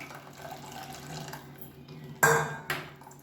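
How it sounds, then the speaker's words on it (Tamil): Tamarind water poured into a bowl while making rasam in a home kitchen, a soft watery trickle followed by two sharp splashing clinks of liquid and vessel, close by. "இப்போ புளி கரைச்சி வச்சுருந்தா இந்த தண்ணியை சேர்த்துக்கலாம்."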